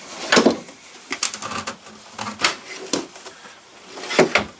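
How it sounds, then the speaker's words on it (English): Kitchen pull-out drawers on ball bearing glides in a new 2019 Coachmen Leprechaun 280 SS Class C motorhome slide and knock several times, a little stiff, with sharp clunks spaced irregularly. "Here we have some storage with some nice pull-out drawers."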